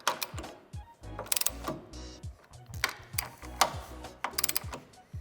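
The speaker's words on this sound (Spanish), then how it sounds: "Terminado de ajustar todos los tornillos, procedemos a darle el par de apriete" A torque wrench ratchets and clicks while tightening tow hitch bolts on a 2021 Peugeot 308. Rapid mechanical clicking comes in repeated bursts, close and clear, with no talking.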